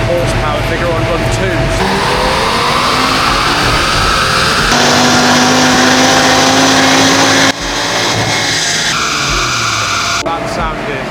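An Audi RS3 roars through a horsepower dyno run, revving hard with rising pitch sweeps, a gear-change-like break, then climbing again, loud and close, with a voice briefly over the engine.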